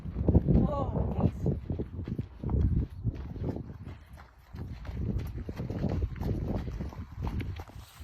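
A horse walks alongside a guide dog, its hooves clip-clopping in a steady, close rhythm of dull low thuds that continues throughout with a slight lull near the middle.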